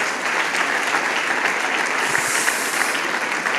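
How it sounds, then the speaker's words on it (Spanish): Loud, sustained applause from a church congregation, dense steady clapping filling the whole stretch without pause. "Le damos un fuerte aplauso al Señor"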